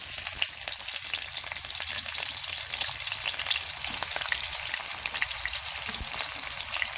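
Loud, steady frying sizzle from a smoking-hot wok with onions, a dense continuous crackle that holds evenly through the whole stretch, with no voices over it.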